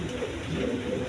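A pair of white and red Indian Bombai pigeons cooing nearby, a low soft murmuring coo sustained through a brief moment.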